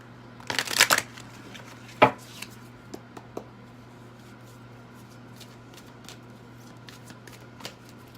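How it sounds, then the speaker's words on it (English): Tarot cards being shuffled in a quick riffle burst, then a single sharp snap and a few soft taps and shuffles in a quiet room. "We'll give a few more shuffles."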